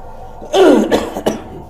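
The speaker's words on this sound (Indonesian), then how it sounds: "Mohon maaf saya agak sedikit batuk." A single harsh cough bursts out, followed by two shorter raspy coughs, close and fairly loud with no talking.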